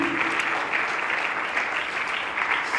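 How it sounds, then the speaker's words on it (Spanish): A church congregation at a Spanish-language sermon claps for God, a dense, loud, sustained burst of many hands with a brief sung or spoken tone at the start. "Den un aplauso a Dios."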